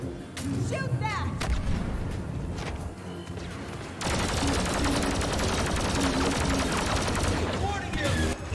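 Rapid blaster fire from a Star Wars video game battle, dense and sustained, bursting louder after a few seconds and continuing steadily, with voices and game sounds mixed underneath.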